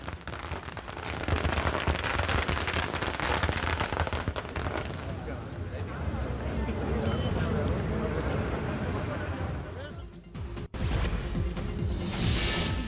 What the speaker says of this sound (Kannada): ಬಿಜೆಪಿ ಕಾರ್ಯಕರ್ತರು ಪಟಾಕಿ ಸಿಡಿಸಿ ಸಂಭ್ರಮಾಚರಣೆ ಮಾಡಿದ್ದಾರೆ